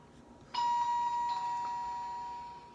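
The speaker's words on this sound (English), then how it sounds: "I'm sorry for the noise. That's just sensors going off." An electronic chime rings out once, a clear sustained tone that hangs and slowly fades over a couple of seconds, with no one talking.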